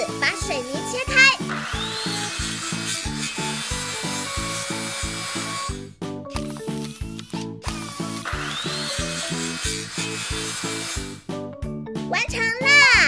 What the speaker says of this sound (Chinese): 用锯子把水泥切开。